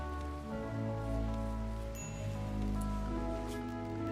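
Rain falling in the RimWorld video game, a steady soft patter of drops spread under sustained tonal game music, with no voices.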